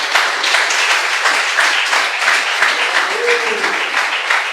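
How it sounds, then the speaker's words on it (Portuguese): A church congregation applauding during a service, broad continuous clapping from many people that fills the space loudly, with a brief voice surfacing briefly beneath it. "Podem aplaudir ao Senhor."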